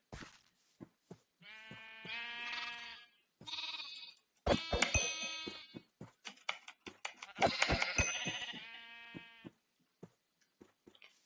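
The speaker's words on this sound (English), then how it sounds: "Ah, a veritable buffet of sheep." Sheep in the Minecraft-style game Hungry World bleat repeatedly, a series of close, clear, wavering calls separated by short silences, with a few soft clicks between them.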